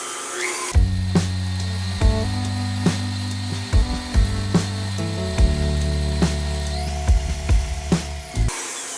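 A stand mixer beats blueberry pound cake batter with its motor humming loud and close, the tone stepping up as the speed rises, and the paddle knocks and scrapes against the bowl at intervals.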